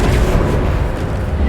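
A Bombarda spell detonating in Hogwarts Legacy, one loud, deep, rumbling blast that fills the moment with dense low-end roar and then holds steady without fading.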